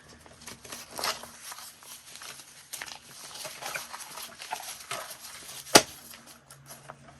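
Excited dogs are stirring at home, heard as scattered scuffling, patter and faint yelps at a distance, with one sharp clatter near the end.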